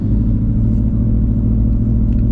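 An 800 hp Shelby GT350 Mustang with a new exhaust setup idles in a loud, steady, deep rumble close by, with a thick low drone and no talking over it.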